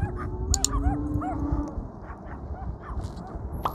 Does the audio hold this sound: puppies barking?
yes